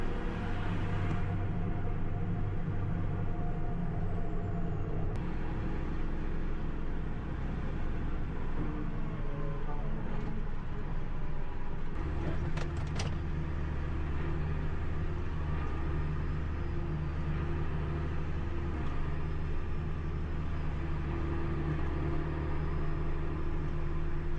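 A tractor towing an oversized seeder along a road through a tight intersection, heard as a continuous low engine rumble and drone that holds steady throughout, with occasional faint rattles and shifts in tone.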